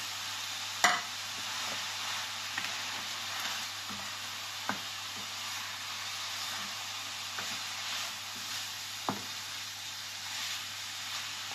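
Boiled, shredded chicken frying with onion and garlic, giving a constant soft sizzle and hiss with occasional sharp clinks of a utensil stirring the pan.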